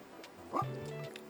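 A dog in the cozy bookshop game Tiny Bookshop gives a single short bark-like yip, close and moderately loud, over a faint steady background tone with no talking.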